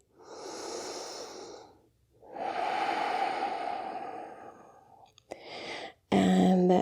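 Slow, deep breaths drawn in and let out during a yoga pose in a wake-up flow session, two long soft whooshes close to the listener, then a short breath and a louder closing sound.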